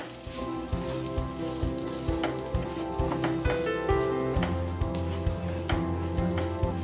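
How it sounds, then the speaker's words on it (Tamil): Semolina (rava) sautéed in a pan for vegetable upma, a dry sizzle with rhythmic scraping and tapping of a spoon against the pan, close and steady without talk. "ஒரு 2 minutes வதக்குங்க."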